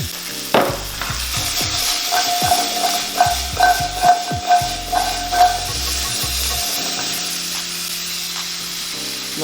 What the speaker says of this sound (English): go ahead and add your carrots first, followed by your onion,